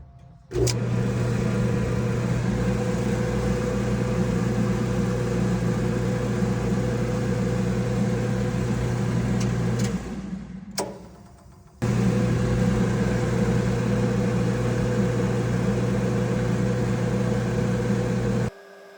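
A flood-damaged Whirlpool dryer with a bad motor hums steadily and loudly after start, cutting off briefly around the middle before starting up again and running on to the end.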